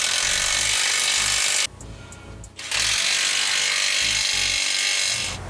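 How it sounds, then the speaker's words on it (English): A ratchet tightens the exhaust clamp at the muffler outlet of a Ford F-150 with a Gibson performance exhaust, giving close, rapid clicking strokes, a brief pause midway, then more clicks. "Then tighten up the clamp coming out of the muffler."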